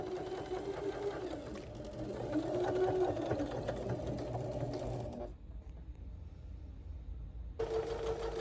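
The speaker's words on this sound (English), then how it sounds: "Next, I'll take it over to the sewing machine." A sewing machine stitching denim runs in a steady buzzing whir, close by, then stops briefly before starting up again near the end.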